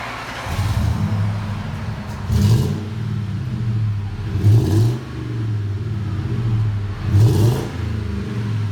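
A supercharged 2003 Ford F-150 Harley-Davidson Edition with a MagnaFlow exhaust idles with a deep rumble close by, then revs in three short throttle blips spaced a couple of seconds apart.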